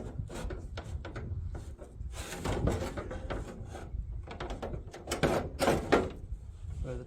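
A door rubs and slides along a loose track during installation, with scraping and knocking bursts over several seconds and a voice talking in between.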